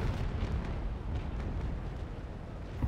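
Cannon broadside fire at the ship Victory during a naval port battle in a video game, a dense rolling barrage of deep booms blending into a continuous loud rumble.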